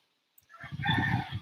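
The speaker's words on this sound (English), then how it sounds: "roosters are a part of life here" A rooster crows outdoors in Phuket, Thailand, a single sustained call rising out of quiet and holding fairly loud and near for over a second.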